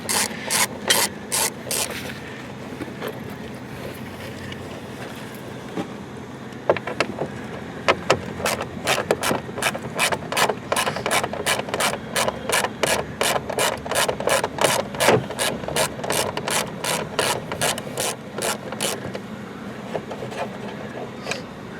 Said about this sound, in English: Take the factory screws out.